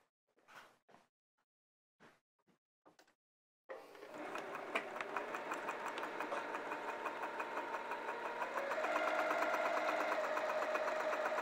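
A few soft handling knocks give way to a sewing machine starting up on a flannel tunic, running continuously and close with a steady whir that grows slightly louder near the end.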